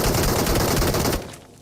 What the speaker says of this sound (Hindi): सामने से गोली चल रही